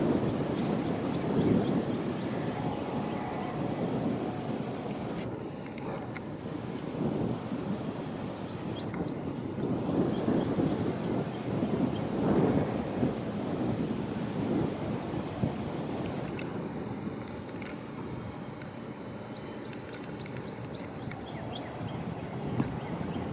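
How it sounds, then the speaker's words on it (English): Strong, heavy wind blows across a golf course, a continuous roaring rumble with gusty surges buffeting the microphone, loud and unbroken for the whole stretch with no talking. "I had a little trouble even holding the camera still there with how heavy this wind is blowing"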